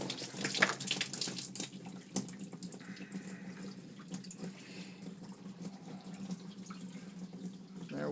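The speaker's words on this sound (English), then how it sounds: "Let's open up the valve and see how it flows." Water pours steadily from the opened valve of a DIY home-brew mash tun, splashing and gurgling continuously at close range with a few uneven surges.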